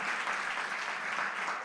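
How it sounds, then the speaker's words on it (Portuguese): Church congregation applauding in a steady, dense burst of many hands clapping, fairly close and continuous, with no voices over it. "Eu quero pedir uma salva de palmas para o nosso Senhor Jesus e agradecimento."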